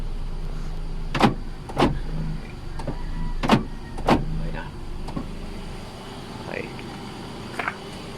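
Door lock actuators on a Hyundai Eon, triggered by the keyless entry remote, clunk sharply about five times at uneven intervals, close by, over a low steady hum, with a voice faintly present.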